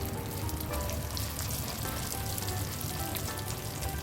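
Blended chana dal mixed with food colour sizzles and fries in a pan, a dense, steady crackling hiss heard up close without pause.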